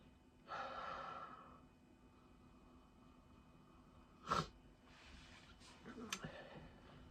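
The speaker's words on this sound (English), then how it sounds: "So let's give it a sniff." A person sniffs a beer's aroma, with soft close breaths and a quick sharp inhale through the nose amid quiet room noise.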